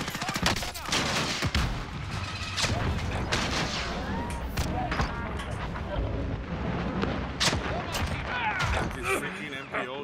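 Gunfire in Call of Duty Warzone, irregular bursts and single shots scattered across the stretch, some near and sharp, others more distant, mixed with explosions and rumble while players talk over it.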